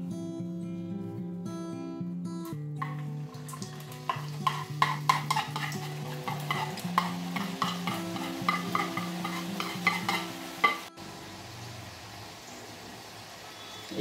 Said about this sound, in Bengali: দেখুন ভেজে নিয়েছি, এবার বাকি নিমকিগুলো এখানে দিয়ে দিচ্ছি।